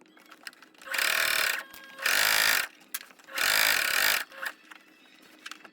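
Sewing machine stitching the straps of a homemade tote bag with pockets, three loud sustained bursts of rapid stitching separated by short pauses and small handling noises, with no talking.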